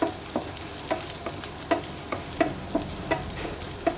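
Thalkuri greens (saak) cook in a pan with a steady low sizzle, punctuated by regular scraping stir strokes about every half second, close and moderately quiet, with no talking.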